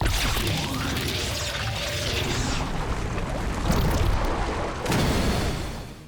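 Anime explosion from the ultimate spell I Am Atomic in The Eminence in Shadow, a loud, dense roaring crash that holds for several seconds, with a second surge of impact near the end before it fades.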